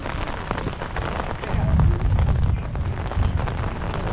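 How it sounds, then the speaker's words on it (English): Heavy rain pours down during a gravel bike race, a dense, steady wash of noise with gusts of wind buffeting the microphone and a louder surge midway. "So it's raining like crazy."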